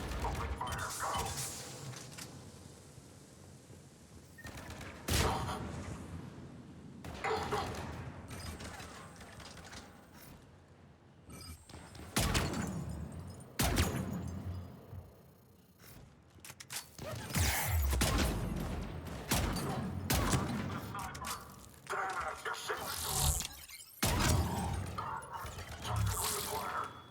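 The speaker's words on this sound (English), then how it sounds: "The intruders! Open fire! Open fire, go!" Gunfire in a PC shooter video game: irregular bursts of loud, crackling shots and impacts in separate clusters, with lulls between them and occasional game voices.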